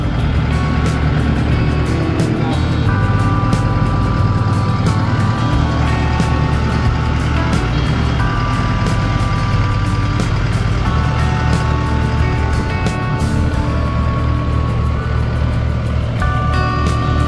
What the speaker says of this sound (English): now we'll straighten up the tractor and I guess test it